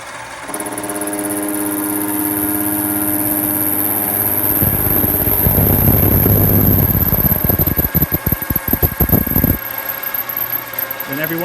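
A metal lathe spinning at 1,000 RPM while the carriage feeds a cutting tool into the workpiece to start a groove, a loud steady mechanical whine and hum that turns rough and grinding as the cut bites, then chatters.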